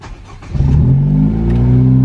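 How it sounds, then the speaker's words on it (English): A car engine cranks briefly and catches, then settles into a loud, close, steady idle hum for the remaining moments, with no talking. "So we're gonna turn on the car."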